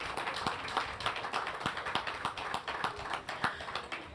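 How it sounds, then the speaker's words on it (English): An audience at an outdoor land regularization handover ceremony in Upper Monkey Hill applauds the staff, producing a steady patter of many hands clapping at moderate distance. "Please join me in giving the staff a round of applause"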